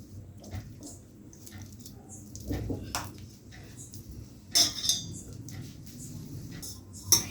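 Water is poured into a wheat flour dough made with mashed banana and sugar: a faint, soft trickle and splash against low background hiss, with a few brief wet clicks.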